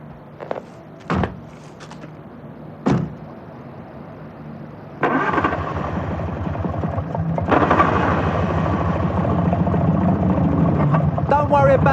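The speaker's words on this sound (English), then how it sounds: "The engine's just been reconditioned." Car doors thump a few times, then a freshly reconditioned old car engine fires up and settles into a loud, steady, rough-running rumble.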